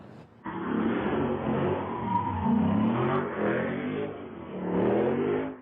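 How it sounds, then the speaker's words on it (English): A street-racing car engine revs hard and loud, rising and falling in pitch over several seconds, with a harsh, grinding edge that suggests spinning tires. "It's the sound of revving engines and screeching tires"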